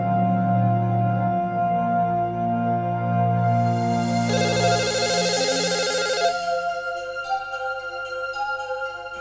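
A telephone ringtone plays continuously, close and fairly loud, its melodic tones shifting partway through, with no talking over it.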